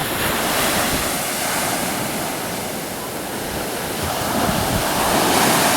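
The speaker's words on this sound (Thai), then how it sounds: "ทะเลไอริชตรงเนี้ย" Steady roar of Irish Sea waves washing onto a rocky shore, broad rushing noise with gentle swells in loudness, some wind buffeting the microphone, no voices.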